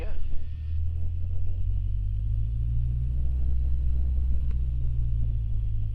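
Light aircraft G-BMUO taxiing at Redhill aerodrome, a steady low engine drone that holds even throughout, loud and continuous.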